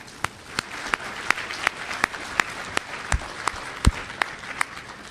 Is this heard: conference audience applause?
yes